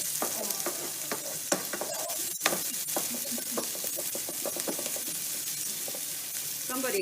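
Onion and minced jarred garlic fry in a pan, a steady close sizzle with crackling spits and a sharp pop midway, while a utensil stirs and scrapes the pan in quick repeated strokes.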